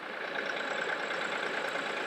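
A truck engine idles while warming up at an off-grid cabin build site, a steady, even hum with a faint droning tone and no voices.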